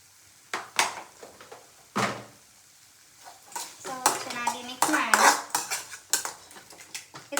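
Cabbage and salt being stirred in a cooking pan, giving sharp intermittent scrapes and clanks of a utensil on metal, with a child and an adult talking over the later stirring.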